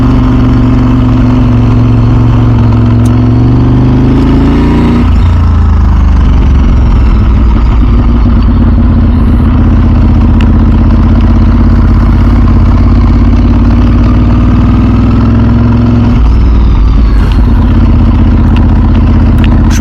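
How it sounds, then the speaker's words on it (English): A Ducati 996 SPS motorcycle with a dry clutch rumbles loud and close, its exhaust holding a steady throaty drone that rises and falls as the rider changes throttle, with no talking over it. "Hopefully you guys can hear the exhaust."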